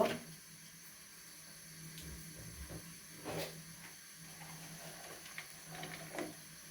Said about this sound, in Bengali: তেল দিয়ে অল্প পরিমাণ পেঁয়াজ দেব।